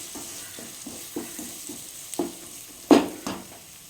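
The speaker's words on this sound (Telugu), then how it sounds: "ఇంకొకసారి బాగా కలిపేసుకుందాము" A spoon stirring spicy tamarind fish curry in a pan, Nellore style: soft rhythmic scraping strokes in a steady pattern over a faint sizzle, with a couple of louder clanks near the end.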